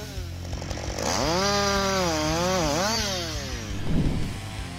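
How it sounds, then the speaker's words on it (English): A Husqvarna 560XP chainsaw cuts through wood in a forestry setting, its engine rising into a loud sustained whine under load for a few seconds before easing off, with no voices. "560XP chainsaw brings great efficiency in sawing wood"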